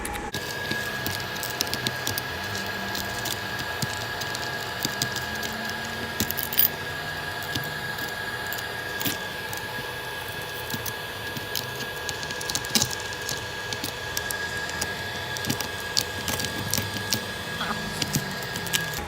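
Cracked phone back glass being pried and picked away after laser cutting, a dense run of small crackling, gritty clicks and scrapes that continue steadily at close range with no talk.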